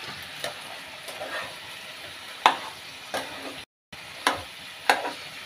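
Chicken sautéed in a pan for a thick tandoori-style masala, with a spatula stirring and scraping in repeated strokes over a constant sizzle, close up with no talking.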